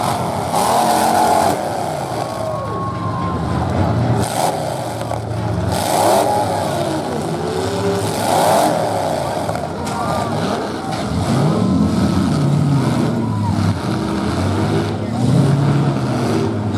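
Demolition derby cars at a 2024 event in Salmon, Idaho, engines revving and roaring continuously and loudly, with rising and falling pitch as the cars race, under crowd noise and shouting throughout.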